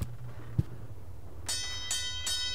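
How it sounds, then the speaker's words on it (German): Bright metallic bell strikes ring out three times in quick succession as a demolition signal in the video game Deponia, each with a shimmering ringing tail, after a quiet stretch of faint low hum and one soft thud. "läuten wir mal die Glocke."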